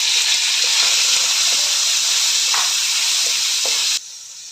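Cooked, deboned chicken hits garlic already frying in a pan for special noodles, giving a loud, steady close-up sizzle with faint scrapes of stirring that drops sharply near the end.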